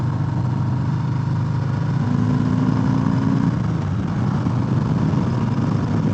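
A 2018 Harley-Davidson Sport Glide motorcycle accelerating on the road, its engine a steady low drone buried under heavy rushing wind noise, with a brief rise in engine pitch partway through and no voices.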